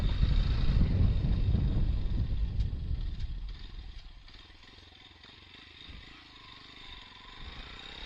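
A Yamaha FZ motorcycle on the road, with an engine drone mixed with wind rush that is loud at first and then eases to a quieter, steady hum.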